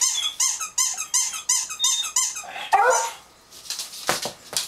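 Beagle giving a rapid series of high-pitched, squealing yelps and bays in a regular rhythm, close and fairly loud, trailing off into a few softer cries.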